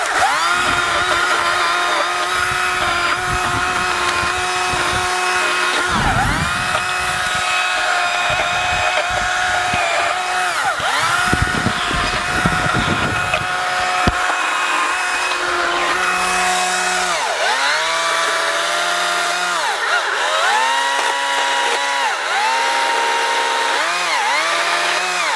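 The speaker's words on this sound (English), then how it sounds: "I almost feel like this cuts faster than a gas powered chainsaw." A battery-powered chainsaw cuts through wood with a loud, continuous motor whine that rises and dips as the chain bites and clears, close to the listener throughout.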